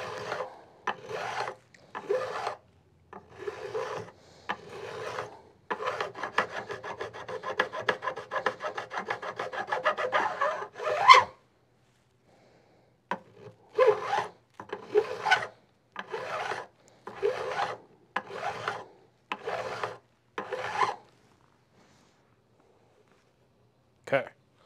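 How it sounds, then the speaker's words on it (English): A diamond file rasps back and forth across fret ends on a Martin guitar to bevel them, repeated close scraping strokes in bursts with short pauses, one dense run of quick strokes midway. "I'm going to get my diamond file to finish that up."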